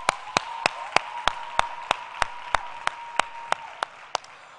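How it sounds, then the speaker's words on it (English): Steady, evenly spaced claps ring out at a brisk, regular beat for a final round of applause for a power panel at a youth arts and culture event, sharp and distinct with no talk over them. "Last round of applause to our power panel."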